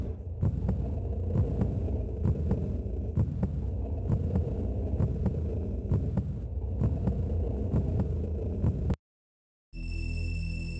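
A steady, deep heartbeat pulse throbs continuously over a low hum at Time's Eclipse, the dark realm beyond time in the video game Chrono Trigger, then cuts to silence briefly before a tonal hum returns.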